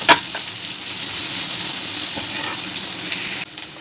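Chopped onions fry in a pan for a Bihari-style jackfruit curry, giving a steady, loud sizzle that runs unbroken, with a few brief stirring clinks near the start and end.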